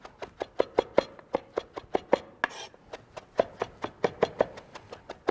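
A knife chops parsley on a cutting board for chimichurri in a quick, even run of crisp, close knocks, about twenty strikes with one brief pause partway through.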